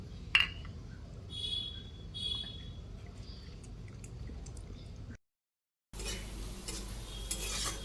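Pan frying and stirring ahead of adding boiled dal: low, steady sizzle with scattered scrapes and light clinks of a utensil against the pan, cut by a brief silent gap before a louder, hissier stretch of frying resumes.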